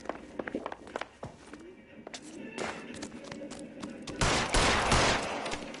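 Gunshots in L.A. Noire, scattered sharp cracks amid footsteps and bustle, building to a louder, denser burst of fire near the end, with voices speaking over parts of it.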